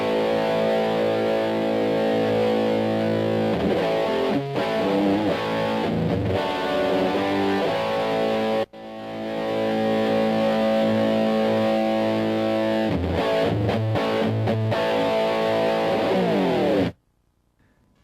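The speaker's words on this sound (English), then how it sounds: "adjust the distortion amount, volume and noise reduction level" Heavily distorted electric guitar through a Korg D1200 distortion effect, playing sustained, buzzing chords with a few brief pauses, loud and gritty, ending abruptly in silence.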